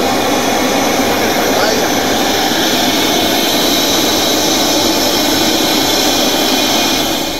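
A jet airliner carrying a head of state takes off from Jomo Kenyatta International Airport in the evening, its engines roaring loudly and steadily throughout with a broad, continuous rumble and hiss.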